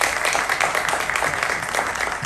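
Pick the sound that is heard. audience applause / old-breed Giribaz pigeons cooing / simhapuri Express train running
audience applause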